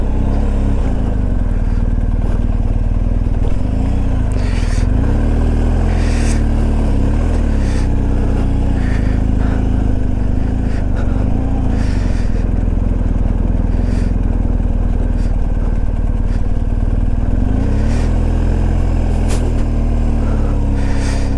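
Motorcycle riding a mountain road in Spiti Valley, its engine droning loud and close without a break, with small shifts in pitch as it climbs and slows.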